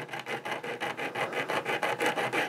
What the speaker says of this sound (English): I'm just use emery board and just kind of sand it a little bit